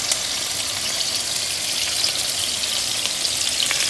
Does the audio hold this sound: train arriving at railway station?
no